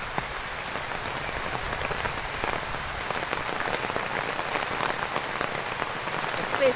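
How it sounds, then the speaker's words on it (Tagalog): Heavy rain pours steadily on a rural farm, a dense, even hiss of drops hitting surfaces that stays loud and unbroken throughout. "Malakas na yung ulan."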